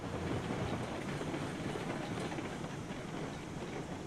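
A train rolling along railway track in the game Railroads Online, a continuous rumbling clatter with faint clickety-clack at a steady level and no voices.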